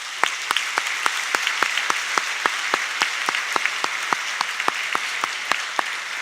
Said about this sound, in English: Let's give one more round of applause to Brooke Gladstone.